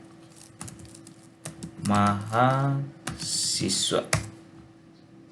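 Computer keyboard typing as a web address is entered into a browser, a short run of close clicks alongside someone speaking Indonesian.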